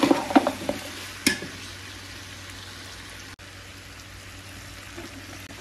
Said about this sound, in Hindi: लहसुन अदरक हरी मिर्च अच्छी तरह से भुन चुकी है।